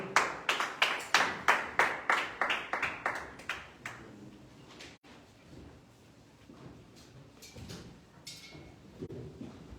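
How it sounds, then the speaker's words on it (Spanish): A church congregation at a Sunday evening service claps in a burst of about a dozen strong, even beats, then the applause thins into scattered softer claps and room murmur. "vamos a darle un fuerte aplauso a Cristo"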